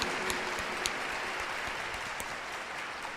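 Church congregation at a Sunday evening Mass clapping together in a dense, even wash of applause that fills the room, sustained at a steady level with a few sharper claps standing out.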